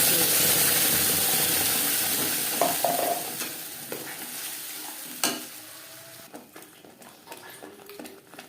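Onion, garlic and tomato fry in mustard oil, a loud close sizzle that fades over several seconds amid scraping stirs and a few clacks of a spoon against the pan.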